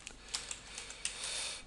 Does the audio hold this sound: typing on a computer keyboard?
yes